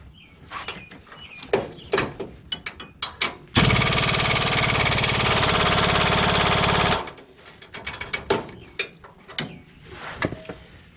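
A power wrench with a deep well socket loosens a strut nut on a 2007 Nissan Titan during a front strut change. It gives one loud, steady whirring burst of about three and a half seconds, set between quieter knocks and clanks of the work.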